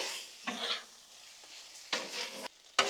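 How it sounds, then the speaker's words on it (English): A sauce being stirred on a Blackstone griddle, heard as a few short scraping, sizzling bursts separated by quiet gaps, close up, with no talking. "Let's stir our sauce up one more time."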